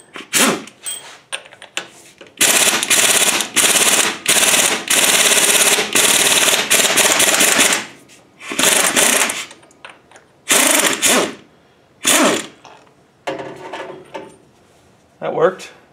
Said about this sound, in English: Now I want to take off the balancer. And that bolt is a 15/16. So I'm going to put that in my impact.